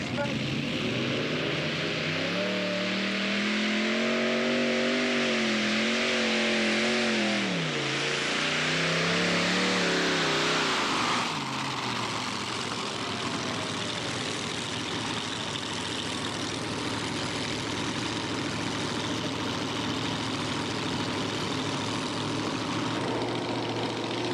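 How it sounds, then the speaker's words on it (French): A German tractor at a tractor pulling event in Draiso roars with heavy, steady engine noise, revving up and down in pitch for several seconds before settling into a loud sustained drone, with an announcer talking over the noise. "c'est un tracteur allemand"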